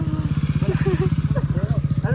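A Honda motorcycle rides along a road in Arunachal, its engine thumping in a fast, even pulse close by, with people talking over it.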